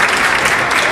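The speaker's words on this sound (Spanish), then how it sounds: "Fuerte, fuerte, fuerte ese aplauso para la Escuela de Danza" Loud, dense applause from an audience at a cultural dance event, clapping steadily and close for a dance school's troupe of girls who performed with feathers.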